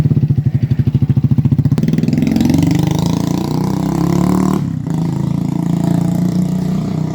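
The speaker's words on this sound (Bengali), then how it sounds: "সেও তার বাইক নিয়ে বের হয়েছে এবং কোথাও হয়তো ঘুরতে যাচ্ছে" A motorcycle engine close by, starting with a rapid pulsing idle that builds into a loud, steady revving drone as the bike pulls away, with a brief dip in the middle.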